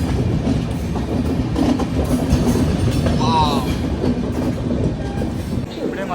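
Train on the Dudhsagar route in Goa running along the tracks, loud continuous rumble with rhythmic clickety-clack of wheels over rail joints, heard from on board, with brief voices in the carriage.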